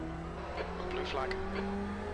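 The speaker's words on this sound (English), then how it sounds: "Blue flag, so there's faster cars coming up behind us." Faster GT race cars passing in a racing game at Monza, engines droning and rising as they come up and sweep by, with a voice talking over them.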